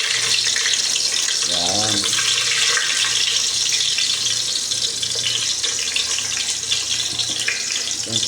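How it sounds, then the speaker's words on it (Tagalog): Garlic hits hot oil in a pan and fizzes with a steady, close sizzle that keeps going under a brief spoken word. "Pag maintika na po, mainit na po siya. Lalagay na po natin yung bawang."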